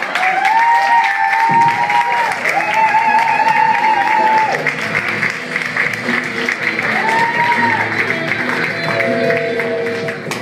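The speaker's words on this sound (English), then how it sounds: "give him a better round of applause, Mr. Paul." An open mic comedy audience claps and cheers loudly after a set, a dense sustained wash of applause with voices calling out and what sounds like a mic or tonal hum running through it.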